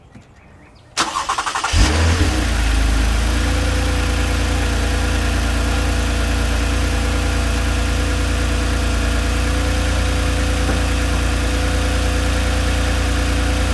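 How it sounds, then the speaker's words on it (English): A warm 2020 Toyota Camry engine with its stock intake fires up after a second of near silence, with a brief cranking surge, then holds a loud, steady, close idle. "So now we're going to start it up and get a startup clip and a little bit of revving with the stock intake."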